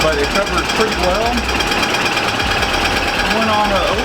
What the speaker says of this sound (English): You'll have to excuse the fan.